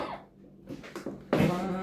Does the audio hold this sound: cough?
yes